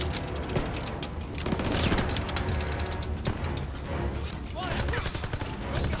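Rapid bursts of gunfire from a World War II shooter video game, Call of Duty: WW2, crackle loud and dense, with overlapping automatic fire and booms through the whole stretch, broken by a few shouted voices.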